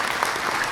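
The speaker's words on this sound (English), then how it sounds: "that deserves some hand claps" Brief burst of applause sound effect on a podcast, dense steady clapping with no gaps, loud and close throughout.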